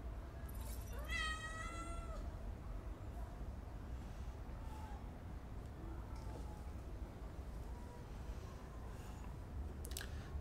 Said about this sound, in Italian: c'è il gatto mi sta cercando di tirare tutti i fili